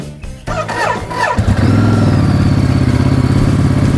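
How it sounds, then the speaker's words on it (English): A Ducati Multistrada 950 motorcycle engine starts: a brief starter clatter, then the engine catches and settles into a loud, close, steady idle rumble. "That's how you start the motorcycle."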